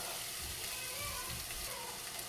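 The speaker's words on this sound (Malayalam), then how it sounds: "പാൻ ചൂടായതിൽ ഞാൻ ഉള്ളി ആഡ് ചെയ്ത് കൊടുത്തു." Chopped onions sizzling in hot oil in a pan, a steady dense hiss and crackle that runs without pause, close and fairly loud.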